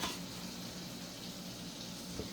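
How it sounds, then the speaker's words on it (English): Butter sizzles steadily in a hot pan, a constant crackling hiss close by with a faint pop near the end. "You hear that sizzling? That's my butter."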